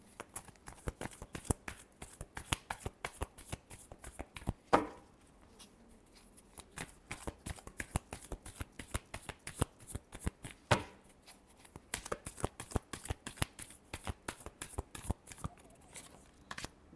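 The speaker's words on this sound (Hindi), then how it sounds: "Last shuffle." A deck of cards shuffled repeatedly, rapid riffling flutters in bursts separated by short pauses and soft taps as the deck is squared, close and fairly quiet.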